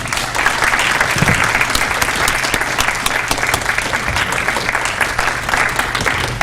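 An audience welcomes speaker Norm Stamper at a City Club event with steady, loud applause from a large crowd that fills the room continuously without a break.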